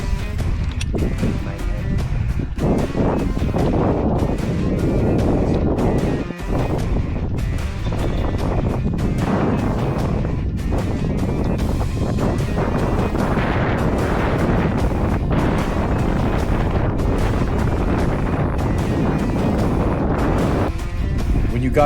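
Strong wind gusts roaring over an exposed climbing route at Red Rocks, a loud, constant buffeting rush that batters the microphone throughout, with a voice briefly heard beneath it.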